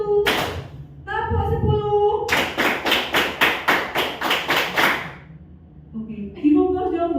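A group of school staff claps in unison in a counted pattern, one clap followed by a quick run of about ten sharp, even claps, with a voice speaking before and after.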